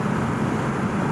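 A Porsche 987 with the 2.7L engine drives along, its steady engine drone and road roar filling the cabin evenly with no talk.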